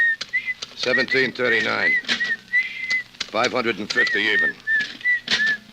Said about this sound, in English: Look, stop that creepy whistling, will you?